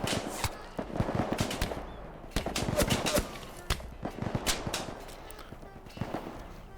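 Rapid rifle fire in a VR shooter game, bursts of sharp cracks crowding one another across the stretch with short pauses between volleys.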